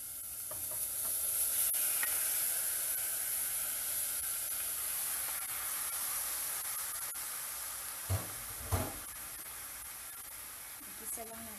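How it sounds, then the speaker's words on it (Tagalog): Beef being sautéed in a pan with light-browned onion and garlic for beef kaldereta, giving a steady soft sizzle with occasional stirring clinks and a few louder scrapes near the end. "Igisa lang natin siya. Hayaan lang siya hanggang sa magtubig yung baka."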